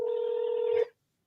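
A single electronic telephone ring tone holds for under a second at close range, then cuts off abruptly and leaves silence.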